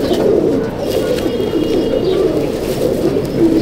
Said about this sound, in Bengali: এটা গোলা নাসেলের, মানে গোলার মতো দেখতে পায়রা।